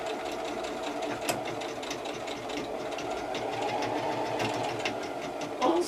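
Sewing machine running steadily as it stitches fabric pieces together in a straight line for a patchwork mosaic block, a continuous mechanical whir with a light rattle throughout, close and alone.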